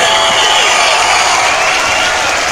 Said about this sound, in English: Let's just give myself a round of applause.